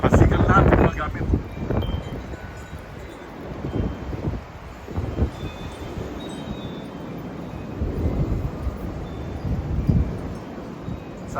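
Strong storm wind with rain during a blackout roars in broad, gusty surges, loudest at the start and swelling again near the end, close and rumbling against the microphone.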